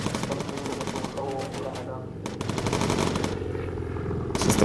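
Rapid bursts of machine gun fire from bomber gunners in the Bomber Crew video game, a dense rattling stream that breaks off briefly and resumes, with a voice talking over it.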